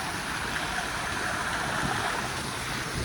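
A mountain river on the Annapurna Base Camp trek rushes in a steady, loud, broadband roar, continuous and unbroken with no voices over it.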